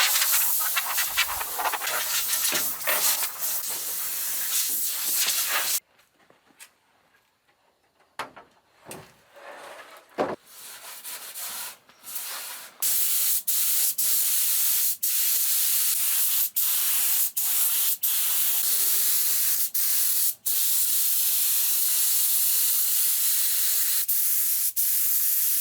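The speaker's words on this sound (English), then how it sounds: "put a coat of etch primer on the roof" Etch primer sprayed onto the roof of a ZIL truck cab in long steady hissing bursts, with a quieter pause and a few short clunks midway before the continuous spray resumes, broken by brief gaps.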